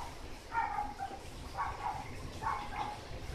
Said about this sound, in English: And that's what a little dog thinks about it.